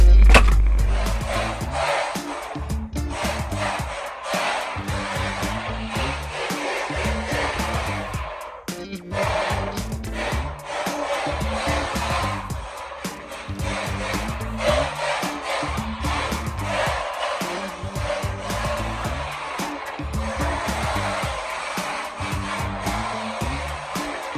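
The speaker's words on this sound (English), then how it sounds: "let's do a quick little drift test indoors here and see if I can control it" A cheap tiny RC drift car slides and skids across an indoor floor, its small motor whining in a continuous buzzing drone with rapid throttle surges and scuffing bursts, close and steady throughout.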